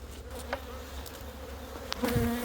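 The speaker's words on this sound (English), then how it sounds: "there's a decent amount of bees on it" Honeybees buzzing on hive frames in a low, steady drone with a few brief higher whines of single bees flying close, moderately loud, with no voices.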